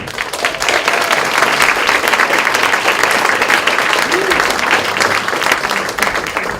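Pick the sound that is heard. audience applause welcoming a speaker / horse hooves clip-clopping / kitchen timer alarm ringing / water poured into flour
audience applause welcoming a speaker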